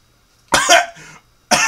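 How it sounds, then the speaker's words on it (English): Two sharp, close coughs break a quiet room, the first a double burst trailing into a throaty rasp, the second a short hack about a second later. "These teeth really make me cough."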